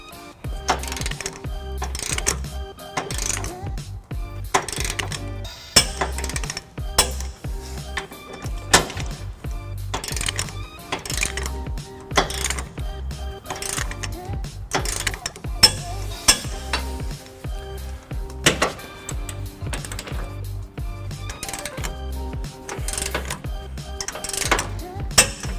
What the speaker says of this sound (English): So now we will torque that to the right.